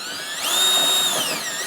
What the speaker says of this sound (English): Tighten my hose clamp on.